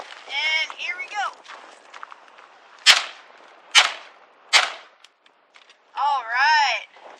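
An SKS rifle fires three sharp, loud shots at an outdoor range, spaced about a second apart, with people talking before and after the shots.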